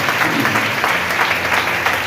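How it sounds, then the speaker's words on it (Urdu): A church congregation claps loudly and steadily for Lord Jesus during a sermon, a dense, continuous wash of applause with no break. "زوردار تالیاں خداوند یسوع کے لیے بجائیں"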